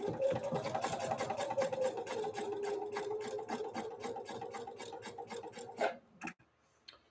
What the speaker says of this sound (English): our first stitch on this Husqvarna Viking Opal model 690Q